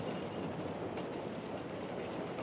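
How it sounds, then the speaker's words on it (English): The Rigi cogwheel train climbs steep mountain tracks in Switzerland, heard from on board as a steady, fairly faint rumble and hiss of wheels and motor with no breaks. "can enjoy the scenic ride on the steep tracks of this cogwheel train"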